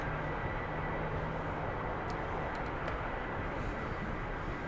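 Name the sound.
jet afterburner in a flight simulator video game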